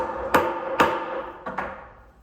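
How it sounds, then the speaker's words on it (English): A hammer strikes small metal circles flat on a jewelry-making bench, with two firm ringing blows followed by a quicker pair of lighter taps, close and clear, each ring decaying. "You're gonna go ahead and hammer these circles flat."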